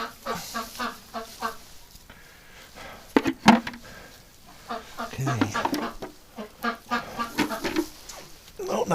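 Muscovy ducks in winter give repeated short, breathy honking calls in uneven bursts, close by, while a person talks over and between them.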